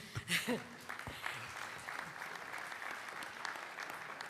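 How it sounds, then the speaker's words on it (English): Applause rises for Venice at a Lions Europa Forum in Klagenfurt, starting with a few sharp claps and a brief voice, then settling into a steady, moderate wash of clapping. "please a big applause for Venice"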